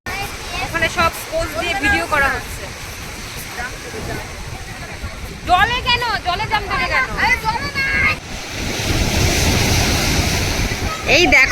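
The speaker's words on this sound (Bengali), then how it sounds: "বোল্ডার পর্যন্ত যে ঢেউটা এসছে সেই ঢেউয়ের স্নান" Sea waves break against boulders on a beach in bad weather, a roaring wash of surf that builds loud toward the end, while people talk and shout nearby.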